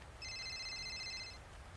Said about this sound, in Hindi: मेरा फोन बजा।